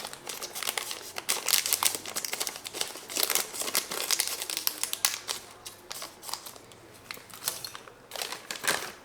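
Lily's dark chocolate chips go into cookie dough from a bag, with dense, irregular crinkling and rustling of the packaging and scattered patter of chips, fairly close and continuous throughout.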